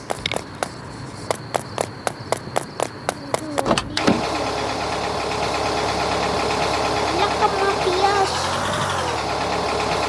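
A car gets moving through a gate after loud noises from underneath, its engine rising into a steady, fairly loud drone. Sharp periodic ticks come first, and a swell in the engine follows near the end.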